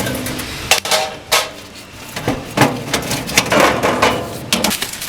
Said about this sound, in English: go ahead and put your extra rock grates over the top of your burner if you want